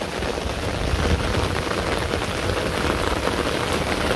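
Steady rain falls across open crop fields in an even, dense hiss of drops with no breaks and no voices.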